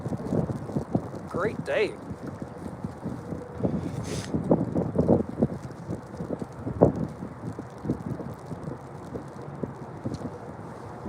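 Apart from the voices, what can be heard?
wind blowing outdoors while fishing for striper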